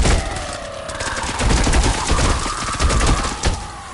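Candy Corn LMG firing in Fortnite Save the World, a sustained rapid stream of automatic gunshots, loud and continuous across the whole clip with a heavier burst near the end.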